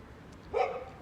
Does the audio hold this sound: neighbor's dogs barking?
yes